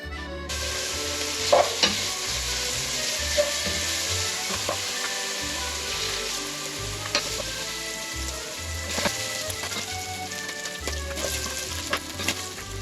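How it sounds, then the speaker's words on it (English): Bacon sizzles steadily in a pot as its fat renders for beef bourguignon, a close, continuous frying hiss with occasional stirring scrapes and small pops. "We want the bacon to render the fat"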